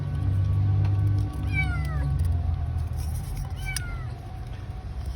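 A small kitten stuck in a motorcycle gives two thin, high meows a couple of seconds apart over a low background rumble.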